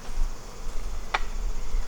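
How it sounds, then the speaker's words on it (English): A steady, close insect buzz of many honey bees hums throughout, with one brief bright click or tap partway through, as bees are shaken off a slimed-out hive. "Let's shake some of these bees off."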